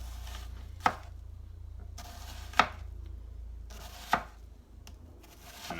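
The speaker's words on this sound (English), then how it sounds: "you're going to cut almost through the entire onion" Knife cutting through an onion on a board, three distinct crisp slicing thunks spaced about one and a half seconds apart over a low steady hum, close and clear with no talking.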